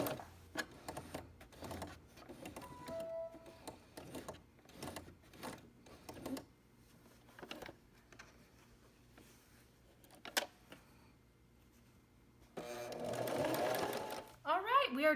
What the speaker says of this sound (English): so I am ready to just top stitch this all the way around, getting pretty close to the edge.